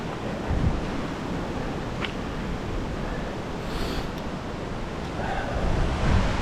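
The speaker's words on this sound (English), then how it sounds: "quite fast moving water." Fast-moving river water rushing under a small bridge, a broad continuous roar mixed with wind buffeting on the microphone, steady and fairly loud throughout.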